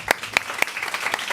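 Audience clapping after a talk at an event on reducing environmental impact and improving human health, a brief burst of several distinct claps close by.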